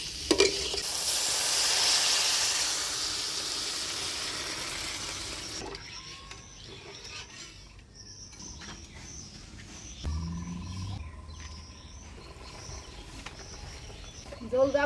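Water hits a sizzling potato and okra masala for a Bengali village fish curry, giving a loud rushing hiss for about five seconds that settles into a quieter simmer with stirring, birds calling outdoors in the background.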